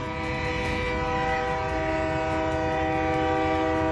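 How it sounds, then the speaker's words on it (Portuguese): A train horn blares loudly and steadily at a level crossing as the train approaches, a sustained multi-tone blast with rumbling rail noise underneath throughout. "o maquinista vai buzinando bem alto"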